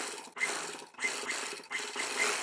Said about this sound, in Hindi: यहाँ पर सिलाई लगाएंगे मार्जिन को अटैच करने की